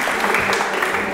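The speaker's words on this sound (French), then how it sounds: "On peut l'applaudir aussi." An audience claps in Nice, a brief dense wash of steady applause at fairly close range with no pause.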